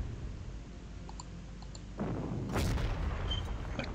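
Artillery fires in a WWII strategy computer game set in the 1941 Metaxas campaign, with a sudden deep boom about halfway through followed by a rumbling tail over a low background hum.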